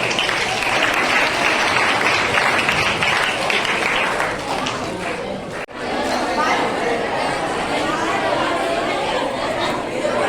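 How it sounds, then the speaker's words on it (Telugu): Schoolchildren at a library event applaud loudly and continuously, a dense wash of clapping mixed with crowd chatter, dipping briefly in the middle before resuming at full strength. "క్లాప్స్ కొట్టాలి పిల్లలందరూ"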